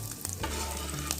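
Puti fish sizzle and crackle steadily in hot oil in a pan, with a brief stir or scrape, close up and continuous with no voices.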